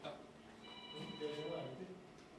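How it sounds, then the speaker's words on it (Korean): A phone rings faintly with a thin electronic tone pattern during a billiards game, heard under low room noise and background voices. "전화 왔어요"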